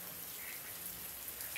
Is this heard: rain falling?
yes